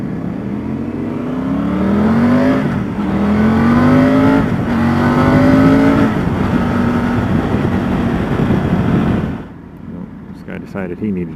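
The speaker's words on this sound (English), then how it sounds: "Alright, I'll do a little aggressive driving to catch up" A Triumph motorcycle on a test ride accelerates hard, its engine note rising through several gear pulls for about nine seconds before easing off to a quieter idle and wind.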